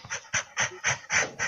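A dog pants close by in quick, rhythmic bursts, about six breaths in steady succession with no other sound.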